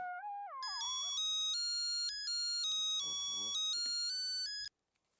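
A melodic phone ringtone from an incoming call chimes loudly in a repeating sequence of bright electronic tones, with a brief burst of background voices and noise partway through before it cuts off.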